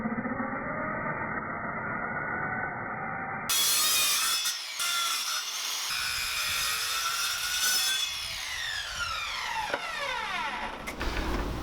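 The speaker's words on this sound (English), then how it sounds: "All right, let's get sawing." A table saw bites into wood for a craft table, a loud, sustained whining cut that shifts in pitch as the blade works through the board, with no talking.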